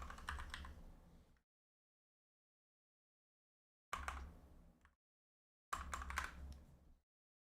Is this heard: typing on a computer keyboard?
yes